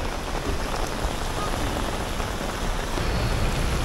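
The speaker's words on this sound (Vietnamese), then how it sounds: "Quá sức mưa khủng khiếp luôn." A heavy downpour drums steadily on surfaces at a market in Nha Trang, an unbroken loud wash of rain with no voices.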